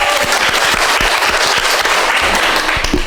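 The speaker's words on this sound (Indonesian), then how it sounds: "Iya, tepuk tangan dulu" A crowd applauds the PMR Madya team of SMP Negeri 1, dense rapid clapping at a steady level from start to finish with no talk over it.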